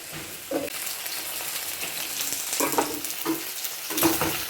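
Spices and vegetables sautéing in a covered pan with a little water, a steady close sizzle with occasional muffled knocks and scrapes of stirring, no talking.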